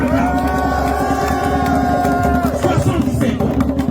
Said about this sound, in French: Applaudissons pour maman.